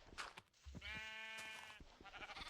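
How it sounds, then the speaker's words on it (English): Sheep in a video game bleating, one clear wavering baa near the listener with short clicks and game sounds around it, fairly quiet overall. "I'm gonna kill all these sheep."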